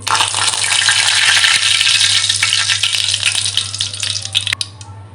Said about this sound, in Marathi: तेल गरम झाल्यावर आता आपण यामध्ये ही कढीपत्त्याची पानं ॲड करणार आहोत